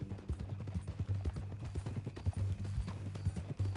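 Horse hooves in Red Dead Redemption clop in a quick, steady rhythm, close and clear, a run of repeated thuds that continues throughout.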